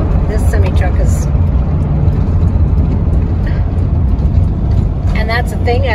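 A semi-truck labours up a steep mountain grade, its deep engine drone and road rumble loud and steady throughout, with people talking over it inside a nearby vehicle.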